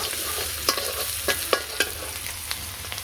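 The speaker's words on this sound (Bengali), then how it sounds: "এরপর কড়াইতে পেঁয়াজ কুচি দিয়ে দিচ্ছি আর কাঁচামরিচ দিয়ে দিচ্ছি" Chopped onion and green chili fry in a wok with a steady, close sizzle, punctuated by several sharp scrapes and clicks of a spoon stirring, with no voices.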